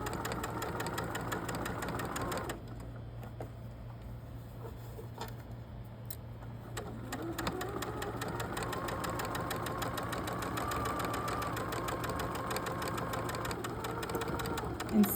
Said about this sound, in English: we're gonna stitch.